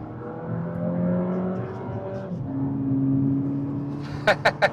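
Interior engine hum of an MG7 car driving, rising and falling smoothly with gear changes, followed by a few short sharp clicks near the end.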